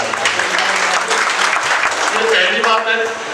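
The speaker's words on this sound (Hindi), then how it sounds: "ऐसा योगेंद्र जी का हमें साथ मिलने में चाहूंगा एक बार जोरदार ताली।" A crowd at a felicitation ceremony for BJP officials gives loud, sustained applause, thick clapping that fills the space while voices and a tonal hum carry underneath.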